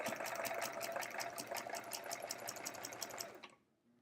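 Home sewing machine stitching a quilt block seam with metallic thread, running as a steady, fast mechanical whir with rapid needle clatter at close range, then stopping abruptly near the end.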